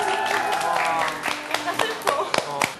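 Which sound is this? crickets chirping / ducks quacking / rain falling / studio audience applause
studio audience applause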